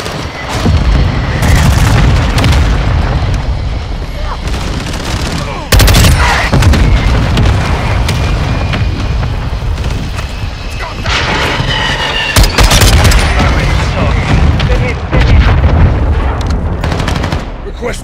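Mortar strike in Modern Warfare II: a barrage of loud, heavy booms and blasts landing in repeated bursts, mixed with rattling gunfire, filling the whole stretch at close range.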